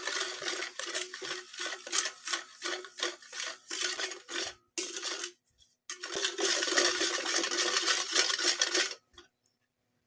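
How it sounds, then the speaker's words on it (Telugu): Milk and half a cup of sugar being stirred together in a mixing bowl for vanilla burfi, heard as close, loud, rhythmic scraping and clinking strokes in quick bursts, pausing briefly before a long continuous stretch of whisking, with no talking. "నెక్స్ట్ 1/2 కప్ షుగర్ బాగా మిక్స్ చేసుకోవాలి."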